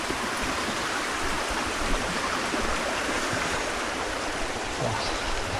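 A river rushes beneath rocks on a trail to a waterfall, a steady, dense roar of flowing water filling the scene with no voices.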